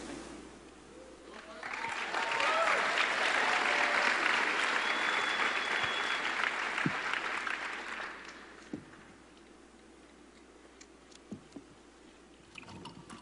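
A convention crowd at Minecon, the Minecraft gathering, breaks into loud sustained applause with some cheering for about six seconds. The clapping then fades to a quieter room with a few scattered claps and murmurs.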